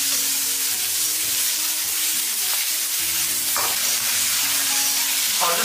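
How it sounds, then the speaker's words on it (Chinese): Garlic cloves and onion stir-fried in a pan sizzle steadily with a broad, hissing texture, broken by a few clicks of a spatula scraping and tossing; no voices. "稍微给它煸炒一下，把洋葱和蒜子里的水分给它煸炒出来"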